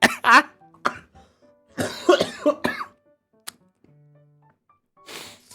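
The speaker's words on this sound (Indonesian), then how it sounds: "Gue lagi batuk." Several harsh, close coughs come in bursts, a few quick ones at the start, a cluster of heavy hacks in the middle, then a softer cough near the end, with quiet gaps between.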